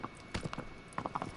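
Horse hooves clip-clop in the video game Shadow of the Colossus, with two quick bursts of hoofbeats on hard ground and a brief pause between them, fairly close and clear.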